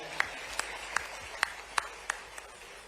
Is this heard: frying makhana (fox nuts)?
no